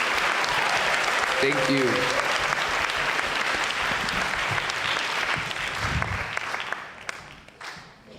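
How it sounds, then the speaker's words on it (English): Audience applause at a general assembly, a loud sustained clapping from a large crowd that fades toward the end, with a brief spoken thank-you during it. "big round of applause to Ms. Marash and our successful spring conference"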